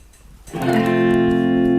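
After a brief quiet lead-in, a guitar strikes a major chord on the fourth degree of a major key, the strum ringing loud and steady to the end.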